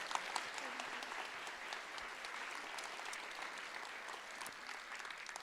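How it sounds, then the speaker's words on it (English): Faint, even applause from a symposium audience continues steadily throughout, a soft wash of many hands clapping at a distance. "Would you give them all three a very warm round of applause?"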